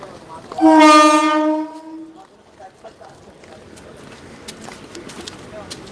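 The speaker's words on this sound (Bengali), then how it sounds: "দেখো ট্রেনটা ঢুকে গেছে সেই জন্য উঠছি না এখন ট্রেনটা চলে যাবে" A train sounds a loud horn for about a second and a half while pulling through a station, then rolls on with a softer rumble and scattered clanks as people talk nearby.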